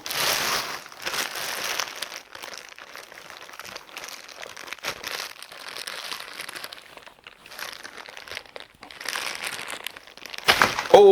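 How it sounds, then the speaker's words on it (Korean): Plastic packaging being crinkled and torn while a cap is pulled off a product, with close, irregular crackling and tearing that grows louder toward the end. "일단은 캡을 뜯어볼게요"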